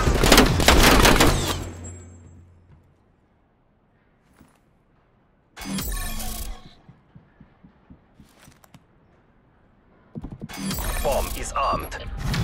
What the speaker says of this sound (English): Bomb is armed.